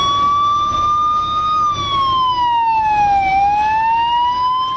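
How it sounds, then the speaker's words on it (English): An ambulance siren wails through the roads of Delhi during the pandemic, one loud, steady sweeping tone that slowly falls and rises again, heard close with no voices. "That's all you see, an ambulance tearing through the roads of the national capital."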